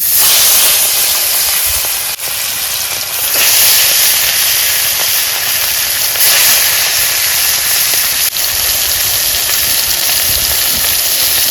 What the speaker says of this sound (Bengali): আমি এখন মাছ ভাজা বসাই দিলাম